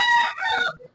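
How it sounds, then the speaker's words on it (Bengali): Large broiler chickens, about five kilograms each, at a busy duck and chicken market let out one loud, close, harsh crowing squawk lasting under a second, then trailing off. "এখানে আপনাদের দুটো মুরগি দেখাই"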